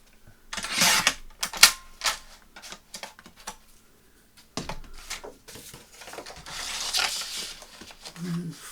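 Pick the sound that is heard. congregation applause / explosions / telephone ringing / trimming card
trimming card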